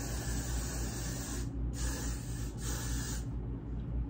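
Got2b Glued freeze hairspray hisses from the can in close, loud bursts, a continuous spray with two brief pauses.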